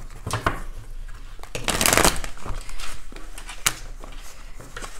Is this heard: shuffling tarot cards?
yes